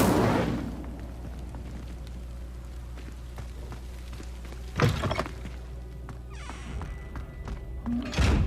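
A fire spell cast in the Hogwarts Legacy video game bursts out as a sharp whooshing blast near the start, followed by another loud burst midway and a third near the end, over a low rumbling game ambience.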